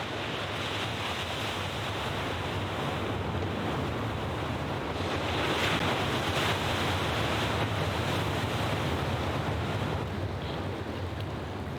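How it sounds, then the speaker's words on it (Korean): Steady roar of ocean surf washing in continuously on a snowy Faroe Islands coast, with wind buffeting the microphone and no voices. "파도 소리에 이끌려 나도 모르게 새길로 빠졌다"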